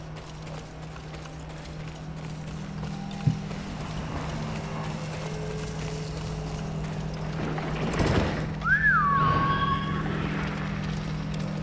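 Horse hooves gallop at a steady clip-clop in the video game Ghost of Tsushima, fairly loud and continuous beneath a constant game hum, with a brief bird-like whistle near the end.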